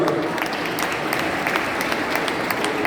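Audience applause at an evening session of an international Thirukkural conference in Toronto, a steady wash of clapping from a hall crowd, moderately loud and continuous throughout.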